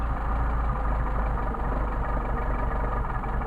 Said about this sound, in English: screw it into the engine stumbles, screw it out to the engine stumbles, and then get a midpoint to where the engine runs the best